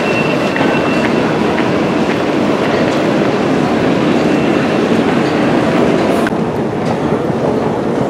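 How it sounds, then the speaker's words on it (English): An Elizabeth line train in London runs through a tunnel with a steady, loud rumbling roar and faint rhythmic rail clatter, continuous for several seconds without speech. "Let's go and get the Elizabeth line one stop to Farringdon."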